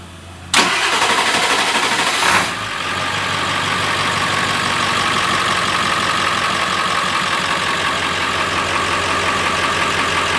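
A 7.3 Powerstroke diesel engine in a Bronco cranks briefly, catches loudly, then settles into a steady, rumbling idle close by.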